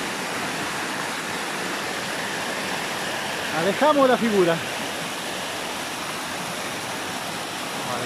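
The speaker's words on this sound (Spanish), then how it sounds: "El ruido del agua." Waterfall on the Puerto Ibáñez–Coyhaique route, a steady broadband rush of falling water filling the whole clip, with a brief spoken voice cutting in near the middle.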